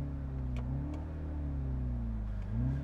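A Mini Cooper S engine drones and hums through an artificial sound enhancer speaker, with a low, synthetic-sounding tone that rises and falls slightly, steady and close.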